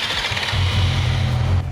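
A modified motorcycle engine starts up close by, cranking and then catching into a loud, steady mid-pitched idle rumble.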